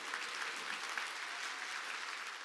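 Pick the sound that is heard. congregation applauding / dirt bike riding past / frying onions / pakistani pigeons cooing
congregation applauding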